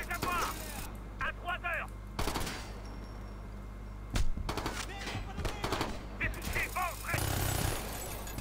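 Rapid gunfire bursts from the video game Ghost Recon: Future Soldier, including heavy .50-calibre style shots, crackling repeatedly over a constant game hum with a few louder bangs.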